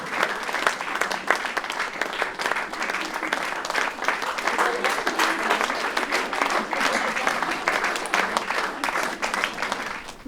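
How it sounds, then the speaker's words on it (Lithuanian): A hall audience at a village thank-you evening in Lazdijai district applauds steadily for about ten seconds, a dense sustained clapping with a voice faintly over it. "Plokit, nu negailėkit, jinai tikrai, jinai verta tų plojimų"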